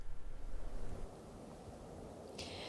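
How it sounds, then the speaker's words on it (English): Strong evening wind at Catalina State Park buffets loudly in low rumbling gusts at first, then settles into a steadier, quieter roar, with no talking. "it's extremely windy out here at Catalina State Park this evening"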